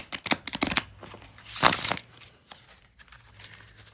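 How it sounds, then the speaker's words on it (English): A deck of cards is shuffled by hand in a few quick riffling bursts, crisp papery flutters separated by short pauses, close and moderately loud. "I'm going to shuffle the Ellis deck first."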